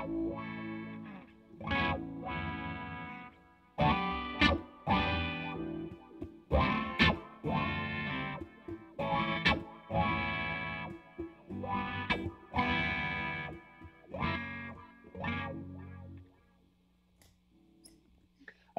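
An electric guitar runs through a wah pedal, setting number five, playing distorted, chorus-tinged phrases of strummed chords and picked notes with sweeping tonal shifts, then falling to a quiet sustained tone near the end.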